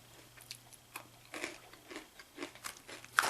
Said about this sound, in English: So this is a nice crunch, very crunchy granola.